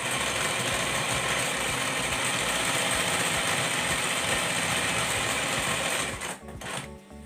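An embroidery machine fitted with an ordinary presser foot stitches gathers in fabric, its steady rapid needle hum running loud and continuous before slowing and stopping near the end.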